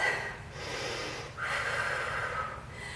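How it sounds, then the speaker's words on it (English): A big deep breath taken during a HIIT workout, with two long, close, audible inhales and exhales that sound slightly snorting. "Hold your arms up. Big, big breath."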